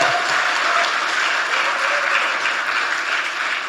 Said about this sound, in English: Let's give a big applause for all of them.